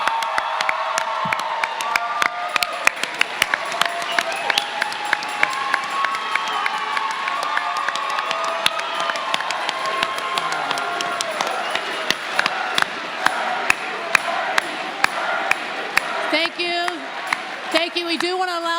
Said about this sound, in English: I'm sure Senator Sanders appreciates your applause